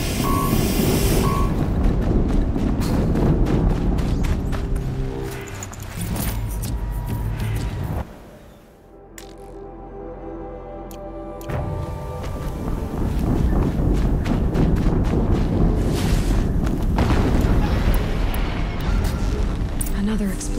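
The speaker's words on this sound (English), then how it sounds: "Another explosion." Game explosions in Horizon Zero Dawn on PS4 Pro, loud rumbling blasts filling most of the stretch, with a brief quieter lull in the middle before the booming resumes.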